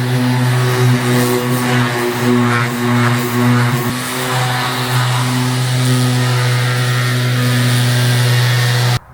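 A power sander drones loudly and steadily on a boat hull with a strong hum and gritty, abrasive hiss, running continuously for several seconds before cutting off.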